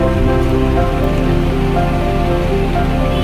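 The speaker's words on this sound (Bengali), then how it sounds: "ওর জন্য আজকে ম্যাগি ডিম দিয়ে একটু ভেজে দিচ্ছি" Maggi noodles frying with egg in a kadai give a steady, dense sizzle and crackle throughout, close and fairly loud, with no voices.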